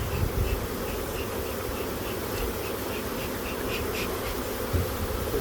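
Honeybees buzz steadily around an opened hive during a split, a dense continuous hum with individual bees droning past close by.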